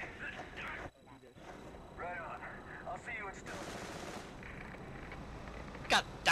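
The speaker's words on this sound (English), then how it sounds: "Now he got shot" Gunfire in the Saints Row video game, with bursts of rapid shots rattling under a busy mix of game noise and voices talking, and a couple of sharper loud cracks near the end.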